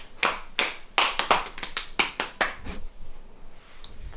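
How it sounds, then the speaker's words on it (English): Sharp hand claps ring out in a loose, uneven series of about a dozen, some in quick pairs, close and clear against quiet air, fading out near the end. "Clap."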